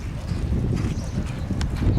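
Racehorses galloping together on a racetrack, a pair of young horses working side by side, their hoofbeats a steady muffled drumming under broad outdoor rumble and wind.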